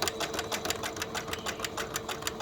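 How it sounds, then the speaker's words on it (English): A sewing machine backstitching through fabric runs steadily at close range, its needle stroking in a quick even rhythm with no voices over it. "I've got the material into the machine. I'm going to backstitch it."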